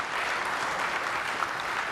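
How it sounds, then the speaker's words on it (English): An audience at a software developer conference keynote claps steadily, a dense wash of applause that stays even throughout. "And this is where you applaud."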